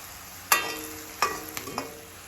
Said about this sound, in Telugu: దానికోసం మంచిగా కలుపుకొని బాగా పచ్చిమిర్చి, కరివేపాకు అన్నీ బాగా బ్రౌన్ అయ్యేంత వరకు, క్రిస్పీ అయ్యేంత వరకు కలుపుకోవాలి.